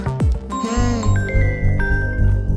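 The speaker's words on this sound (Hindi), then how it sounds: "देखो फोन तो आ गया उसका।" A mobile phone rings with an incoming call, a loud melodic ringtone of bright sustained tones over a low rumbling film score, starting after a sharp swooping sound and continuing steadily.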